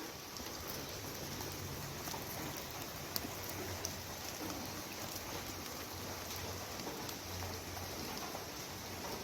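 Rain falling on a village garden, a faint, steady hiss of drops with an occasional tiny tap, distant and even, with no voices.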